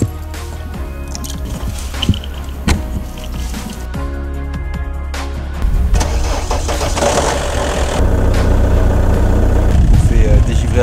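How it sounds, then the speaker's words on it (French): A car engine starts on a snowy morning to defrost a camper car iced up inside overnight, cranking then settling into a steady, close, loud idle while a person talks over it. "On fait dégivrer la voiture parce que ça a givré à l'intérieur pendant la nuit."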